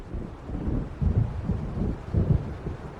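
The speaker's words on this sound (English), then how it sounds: "It seems there's a storm coming." An approaching thunderstorm in Alan Wake Remastered on PS5, low rolling thunder rumbling in several heavy pulses over a dull windy background, fairly close and with no talk.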